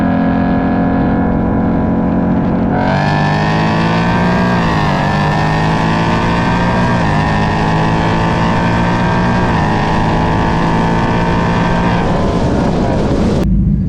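A Cadillac drag races a manual Ford Mustang Mach 1, both engines roaring loud and steady with rising, shifting revs across the whole run, close and continuous from launch to finish.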